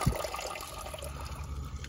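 Coolant water draining from a Porsche 911 cooling system during a water pump change, a steady trickling and splashing flow with a low gurgle, continuous and fairly close.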